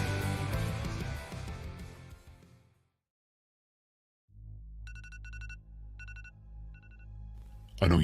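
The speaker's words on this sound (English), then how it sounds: "You set that alarm last night." An alarm rings after music fades into a brief silence: bursts of high electronic beeping in a repeating pattern over a low hum, close and moderately loud.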